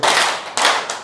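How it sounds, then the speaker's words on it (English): Two distinct bursts of audience clapping at a tech conference in Dar es Salaam, the first long and loud, the second shorter and fading, with no talk over them. "Clap once, clap twice"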